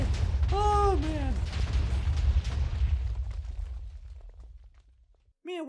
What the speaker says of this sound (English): Okay, so we got packed TNT because it's packed. That was a much bigger explosion.